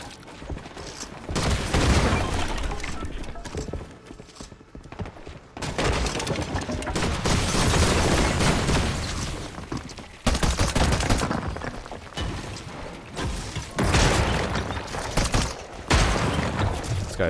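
Shotgun fire during a Fortnite Season 3 match: loud, sharp blasts and volleys recur in clusters across the stretch amid other gameplay noise, with no speech.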